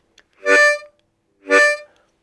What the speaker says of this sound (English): Things like tongue slaps,